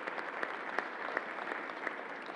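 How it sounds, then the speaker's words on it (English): Brief burst of audience applause at a press briefing in the Javits Convention Center, an even, moderately quiet patter of clapping from a crowd. "Let's give another round of applause to the National Guard and to Alan Steele and all the people,"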